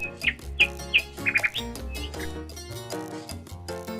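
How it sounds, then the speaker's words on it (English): A nightingale sings quiet bright chirps and short trills spaced across a few seconds, with soft musical tones behind them. "N for nightingale."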